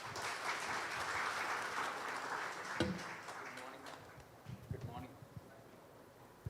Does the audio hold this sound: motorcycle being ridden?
no